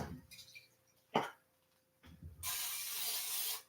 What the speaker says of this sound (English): So keep it away from the flame when you're spraying it.